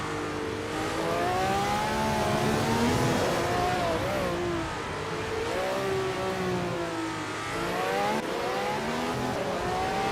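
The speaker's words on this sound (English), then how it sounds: "the race is underway at Knockhill, and leading the pack is Bot Popcorn Slayer in a classic 1967 Ferrari 312" Race cars in a racing video game at Knockhill, led by a classic 1967 Ferrari 312, with engines whining and revving continuously and pitch sweeping up and down as the cars accelerate and shift, loud and steady throughout.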